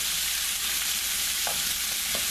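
Onions seasoned with salt and pepper brown in oil over a higher flame, giving a loud, even, unbroken hiss of frying with a couple of faint tiny clicks.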